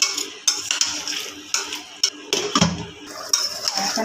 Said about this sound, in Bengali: এখন একটু নাড়াচাড়া করে দিলাম